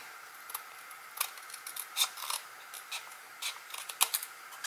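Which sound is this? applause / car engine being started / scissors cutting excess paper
scissors cutting excess paper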